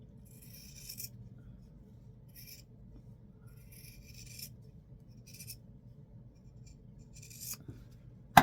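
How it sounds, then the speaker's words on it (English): Fabric scissors cut sewn quilt pinwheel blocks apart along a center seam, giving several short, quiet crisp snips separated by pauses, close and alone. "Now we're going to cut these apart on the center line that separated them."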